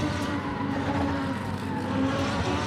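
Lamborghini engine revving in the Assetto Corsa racing game driven with a Logitech G29 wheel, a steady loud drone with shifting pitch that runs throughout, with no talk over it.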